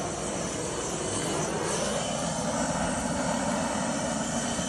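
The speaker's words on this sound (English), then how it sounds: "Okay, the propane torch is lit, and now we are going to sear these beautiful ribeyes." A lit propane torch sears 24-hour sous vide prime ribeye steaks on a grill, producing a continuous, loud, close roar with no pauses.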